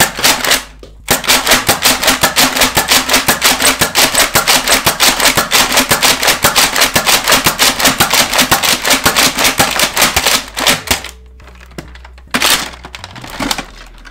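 Nerf Rampage blaster firing foam darts from an emptied drum magazine: a rapid, loud, even string of sharp mechanical clacks for about ten seconds, then a few scattered clunks and handling noises.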